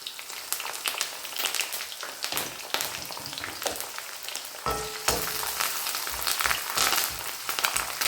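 Garlic and curry leaves fry in hot oil in a pan, a close crackling sizzle with dense spattering pops that grows busier partway through, with no talking.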